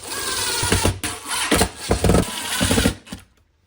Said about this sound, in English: now we just have to screw in all the screws.